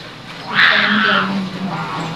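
A homemade bird-call whistle made from an eraser gives one short, bright, reedy squawk, with a faint voice murmuring under and after it.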